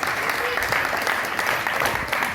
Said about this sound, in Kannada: ನಮ್ಮ ವಕೀಲ್ ಮೇಡಮ್ ಅವರಿಗೂ ಸಹ ಅನಂತಪೂರ್ವಕವಾಗಿ ಒಂದು ಜೋರಾದ ಚಪ್ಪಾಳೆಯನ್ನು ತಗೋಬೇಕು